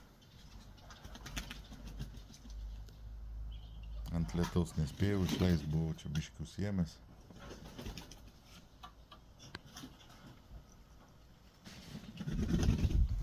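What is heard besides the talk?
pet pigeons bathing and cooing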